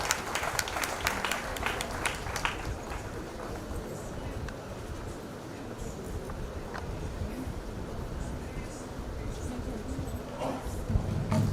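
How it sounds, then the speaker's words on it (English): An audience at a Suryadatta Group of Institutes event in Pune applauds as a guest is welcomed onto the stage, with sharp clapping at the start that settles into a softer, steady patter of applause. "Please welcome Behere sir with big round of applause on the stage."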